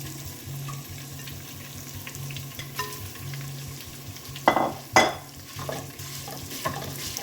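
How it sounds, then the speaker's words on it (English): Ground mild Italian sausage fries in oil in a hot pan with a steady sizzle, broken by a few louder clatters and scrapes of a utensil stirring against the pan. "in a hot pan, we're gonna add some oil. And then our ground sausage."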